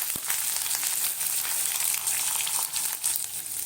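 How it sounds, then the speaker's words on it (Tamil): A large chopped onion sautés in a pan for chutney, giving a soft, airy sizzle with faint scraping stirs, close but fairly quiet and without speech. "வெங்காயத்தை நல்லா வதக்கிக்கோங்க."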